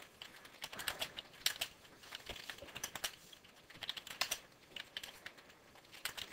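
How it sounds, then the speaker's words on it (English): Steady typing on a computer keyboard, close and quiet, with quick irregular clicks of individual keys running continuously and no voices. "if we keep typing,"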